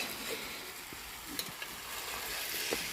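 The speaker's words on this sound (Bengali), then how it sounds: "এবারে আমরা এটাকে একটু ভালো করে কষিয়ে নেব" Potatoes sautéing in a pan for a vegetarian aloo dum, giving a steady close sizzle with a few scattered clicks and scrapes of stirring, no voices.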